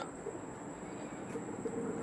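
Bloodline pigeons of the Teramuni type cooing softly and faintly, with low, muffled calls repeating over a steady background hiss, and no talking.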